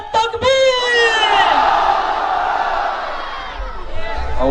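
A large political rally crowd in Gujarat roars back after a Takbir slogan call, a loud surging collective shout of many voices that swells and sustains for several seconds before tapering off.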